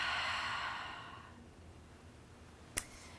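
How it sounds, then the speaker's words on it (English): A long, soft exhale of deep breathing during a yoga trapeze core session fades out over the first second and a half, followed by quiet and one sharp click near the end. "Take a few deep breaths here."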